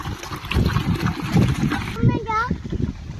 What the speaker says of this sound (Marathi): आयन पाण्यातून जाऊ नको.